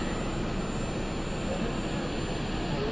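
A presidential jet's engines run on the ground before takeoff, producing a steady, loud, unbroken roar that fills the full three seconds.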